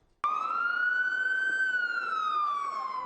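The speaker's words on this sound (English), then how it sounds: "an ambulance is heard almost every 5 minutes" A single long wail of an ambulance siren on Vancouver's Downtown Eastside starts abruptly, rising then slowly falling in pitch, loud and clear with no talk over it.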